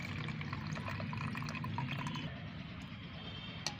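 Boiled homemade liquid plant fertilizer is strained, giving a soft steady trickle and pour of liquid with faint drips and one small clink near the end, heard alone at low level.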